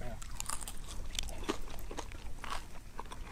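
Crunchy bites and chewing on a crispy fried fish sandwich topped with sauce, several crisp crackles up close over a steady noisy background, with a voice briefly present.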